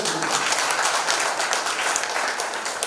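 A large audience breaks into dense, steady applause, many hands clapping together in a continuous bright wash for the whole stretch, fairly close and even in loudness.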